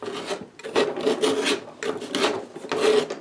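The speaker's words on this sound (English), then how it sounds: "I'm going to try and scrape some of that off." Dried oil paint is scraped off a canvas in a series of rough, rasping strokes, each about half a second long with short pauses between, close and clear.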